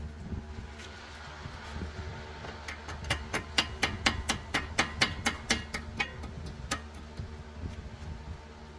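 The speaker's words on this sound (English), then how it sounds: "I'm gonna tap it this way, and it'll start coming out a little bit" A hammer tapping a pin out of a 2010 Subaru Forester steering rack, a run of about a dozen sharp, evenly spaced metallic taps close by, over faint background noise with no talking.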